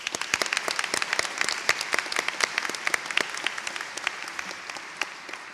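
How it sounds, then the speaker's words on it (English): A modest audience at a 2017 campus awards event applauds for an absent award winner; individual claps stand out clearly within a light, steady patter that fades slightly toward the end. "but we'll still give him a round of applause."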